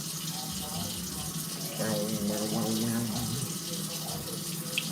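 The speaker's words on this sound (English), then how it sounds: "put some water and salts in there" Tap water runs into a cooking pot for spaghetti, a steady rushing stream whose pitch shifts slightly as the pot fills, loudest through the middle, with no talk over it.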